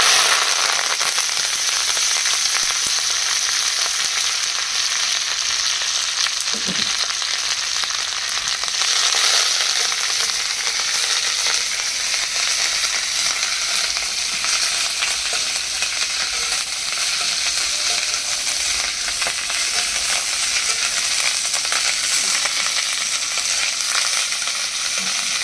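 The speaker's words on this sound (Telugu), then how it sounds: "ఇదిగోండి చక్కగా వేగిపోయిందండి" Spices and curry leaves for a curry leaf pickle frying in hot oil in a pan, giving a loud, steady, close sizzling hiss that carries on without a break.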